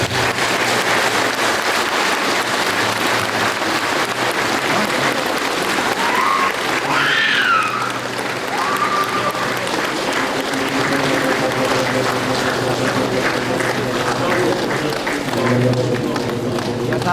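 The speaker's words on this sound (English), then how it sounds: "Give a wonderful clap of it." Congregation at a healing service claps in a dense, continuous roar of many hands that stays loud throughout, with a few voices calling out over it and a musical tone emerging late.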